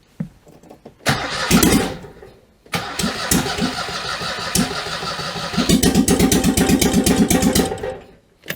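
A Citroen 2CV engine is cranked by the starter in two bursts, a rhythmic whirring churn that briefly pauses, then carries on loud and steady without firing, with no talk.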